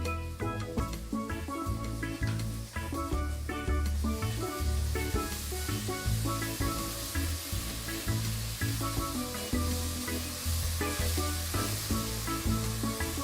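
Ginger, garlic and chilli paste hits browned onions in a pan for duck curry, making a continuous loud hissing sizzle that runs throughout alongside steady tonal background sound.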